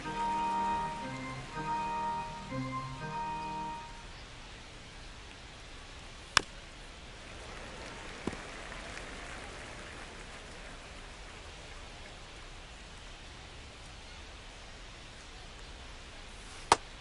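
Steady, hissing rain pours onto a baseball field in MLB The Show 25, a continuous wash that runs throughout, with brief game music at the start and a few sharp clicks along the way.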